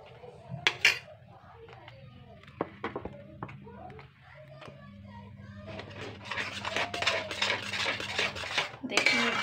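A spoon scrapes and clinks through a thick guava barfi mixture in a pan, with irregular metallic taps and rising, busier scraping toward the end, while someone talks.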